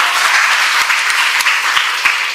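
An audience claps at a school admission festival for young children, producing a dense, steady wash of applause that fills the whole stretch at close range.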